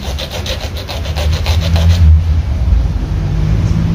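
A sharp knife cuts through iguana meat, making close, loud rhythmic scraping strokes, with a low continuous rumble of traffic or an engine running underneath.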